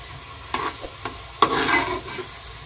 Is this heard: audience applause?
no